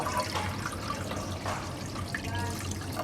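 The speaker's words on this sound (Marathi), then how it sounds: "याच्यात आपण पाणी घालणार आहोत जाळी बुडेपर्यंत" Water is poured into a pressure cooker holding a steel rack, a soft steady splashing and trickling stream heard up close and fairly quiet, with no voices.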